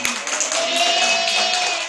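Students in a classroom break into applause, a dense steady patter of many hands clapping close by for a couple of seconds, with a faint tone ringing underneath.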